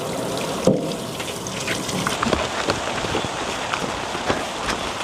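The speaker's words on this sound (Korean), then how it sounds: "비 많이 온다." Heavy rain falling outdoors in the countryside near an outdoor sink, a dense steady hiss of drops with scattered louder patters and taps close by, no talk.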